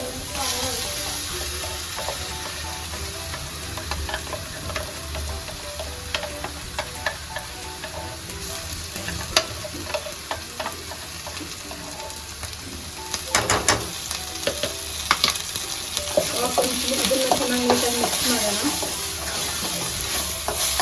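Onion and ground masala paste fry in oil for paneer butter masala, a continuous sizzle with repeated scraping and clanking of a spatula stirring the pan, growing busier and louder toward the end.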